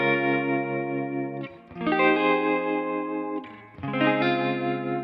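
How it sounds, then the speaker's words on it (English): Electric guitar with heavy reverb, chorus and tremolo, playing sustained chords in two phrases with a short gap between, wet and shimmering in an R&B style, with no voices. "The guitar tone I'm using has a lot of reverb. It's got some chorus and some tremolo just to kind of give it some vibe."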